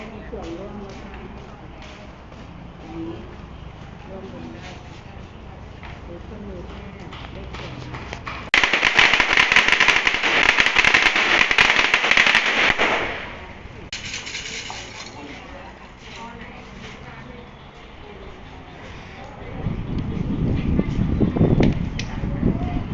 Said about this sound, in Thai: น่าจะมีคนมาแก้บนมาจุดประทัดกัน